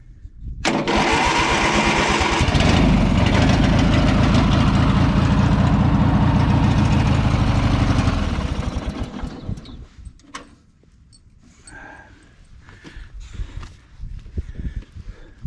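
Craftsman LT1000 lawn tractor with a Briggs 19.5 engine, very cold and choked, cranks over and fires, running loudly for several seconds before dropping to a quieter idle with faint clicks and movement.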